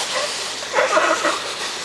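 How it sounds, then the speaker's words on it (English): A steady broadband sizzle of trout frying in butter in a hot pan, close and fairly loud, with a brief swell of crackling in the middle. "That lovely sizzling sound"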